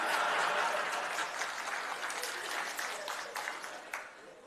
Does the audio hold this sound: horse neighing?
no